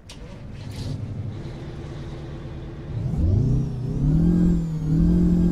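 A Peterbilt 281/351 truck's 8V engine in American Truck Simulator, a low droning idle that swells into a loud, climbing rev, its pitch rising and falling through a couple of throttle pulls.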